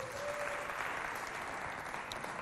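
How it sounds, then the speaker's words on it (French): An audience at a youth holiday event in a Paris district applauds, a sustained, even roar of many hands clapping at moderate volume without a pause. "j'aimerais qu'on applaudisse très fort pour votre présence"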